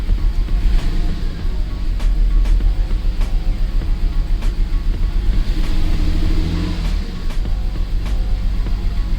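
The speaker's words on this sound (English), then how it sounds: "Still has the misfire, but it's on. It's starting." A Toyota Supra engine runs with a misfire, a close low rumbling idle with uneven pulsing and periodic sharp ticks, steady throughout without talk.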